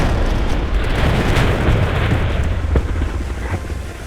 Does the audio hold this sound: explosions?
yes